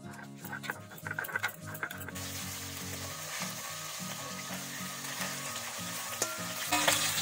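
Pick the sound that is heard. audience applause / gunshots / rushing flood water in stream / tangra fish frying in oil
tangra fish frying in oil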